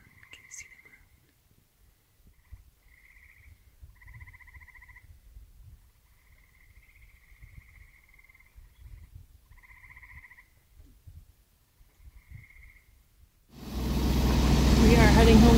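Frogs calling at night on Raspberry Island in the Apostle Islands, sustained trilling croaks repeating at intervals over faint low background noise, until a loud rush of noise near the end.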